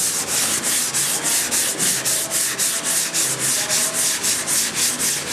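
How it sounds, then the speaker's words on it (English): Primer on a car body being hand-sanded with 180 grit sandpaper, a close, rhythmic scratchy rasp in even back-and-forth strokes, about four per second, steady and alone without speech. "Tell you what's not good is this 180 grit sandpaper we got from Pep Boys."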